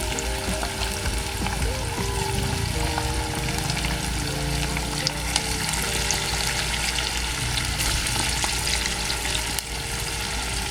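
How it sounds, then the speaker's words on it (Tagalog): Chicken breast frying in a pan, a steady close sizzle with faint stirring and liquid sounds running continuously throughout, no voices. "iprito ko din yung isa kasi dalawa tong breast"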